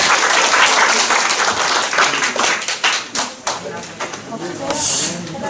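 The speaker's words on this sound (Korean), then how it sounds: "큰 박수 부탁드리겠습니다." An audience claps loudly to welcome a speaker at a Korean seminar, dense applause that thins into scattered claps toward the end, with talking mixed in.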